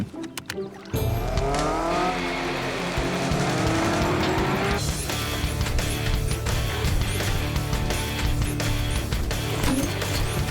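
A cartoon autonomous vehicle from a dinosaur-themed animated series pulls away after a brief quiet start, its engine roar and tire squeal rising loud and steady over a busy soundtrack, with no talk.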